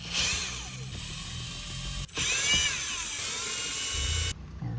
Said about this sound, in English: we're gonna proceed removing the bolts. We're gonna need 10mm wrench.